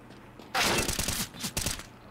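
Burst of gunfire from a Counter-Strike match, a dense loud volley of rapid shots starting abruptly, followed by a second shorter burst of shots.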